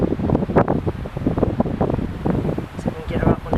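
Strong wind buffets the microphone on a blustery day while carp fishing at a fen, producing a constant low rumble and roar with uneven gusts.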